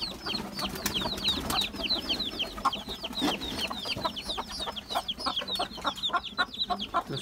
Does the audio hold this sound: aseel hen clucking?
yes